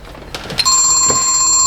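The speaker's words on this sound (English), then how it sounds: "Oh, there's my yellow phone." A yellow telephone rings with a loud, sustained electronic bell tone that starts abruptly and holds steady nearby.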